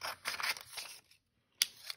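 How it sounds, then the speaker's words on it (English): Scissors cut out a paper Christmas tree in a craft lesson, giving close, crisp rustling snips for about a second, then a short pause and another burst of cutting. "So I'm going to cut out the Christmas tree."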